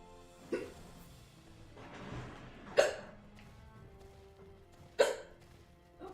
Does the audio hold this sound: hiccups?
yes